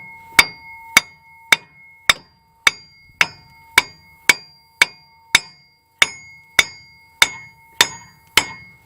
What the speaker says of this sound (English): take your hammer and just lightly drive it back in